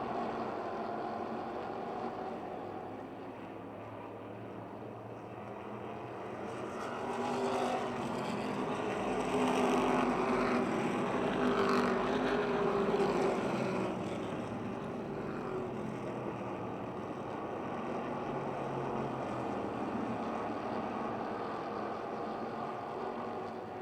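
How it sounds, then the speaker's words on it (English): Race cars roar around an oval speedway track in a close pack on the back straight, a continuous broad engine drone that swells and fades gently as they pass, moderately distant with no voices over it. "Those 3 cars very tight together on the back straight."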